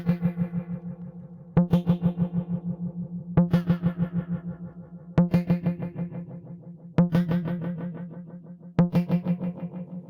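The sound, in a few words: reverb effect with modulation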